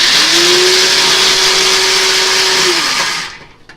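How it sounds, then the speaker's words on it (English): A small electric grinder dating from around 1980 whirs steadily as it chops walnuts for stuffing, a loud, even motor drone holding for almost three seconds before cutting off into quiet. "before we put the walnuts in with the stuffing, we want to grind them. So I took out the baby grinder."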